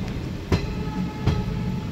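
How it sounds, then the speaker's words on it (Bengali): Steady low rumble of the Kolkata–Balurghat Tebhaga Express passenger train leaving Kolkata along the tracks, with two soft rhythmic clunks from the wheels passing over rail joints. "ঘড়িতে সময় ট্রেন কিন্তু ছাড়লো কলকাতা স্টেশন"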